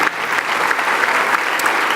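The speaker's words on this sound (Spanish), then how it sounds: "Te damos el mejor aplauso de esta noche a ti con todo nuestro corazón." Church congregation at an evening Spanish-language service gives loud, sustained applause, a thick wash of many hands clapping close and continuously for the whole stretch.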